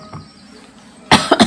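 A pet bird imitating a human cough, giving one sharp cough-like burst followed by two shorter ones, close and loud after a near-silent pause.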